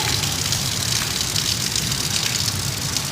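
Steady rain pours down outdoors in Pakistan, a dense, even hiss with a low rumble that holds at the same loud level throughout, with no voices over it.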